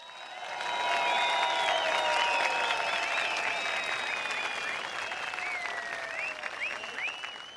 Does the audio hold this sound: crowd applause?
yes